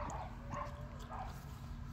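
A dog barks and yips a few times nearby on a rainy day, short faint bursts over a low rumbling background, with a little voice mixed in.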